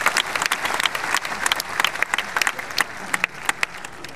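Audience applause at a poetry recital at a college cultural festival, a dense steady wash of many hands clapping with sharp individual claps standing out, loud and sustained throughout with no talk.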